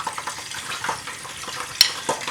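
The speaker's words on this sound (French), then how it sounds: "Vous allez les faire revenir dans l'huile chaude." Onions frying in hot oil in a saucepan give a close, crackling sizzle with scattered pops and a sharp clink near the end, no voices.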